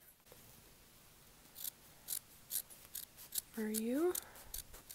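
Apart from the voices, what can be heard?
scissors cutting tiger-print fabric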